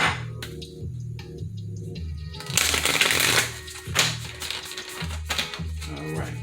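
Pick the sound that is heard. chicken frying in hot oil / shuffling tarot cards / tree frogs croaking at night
shuffling tarot cards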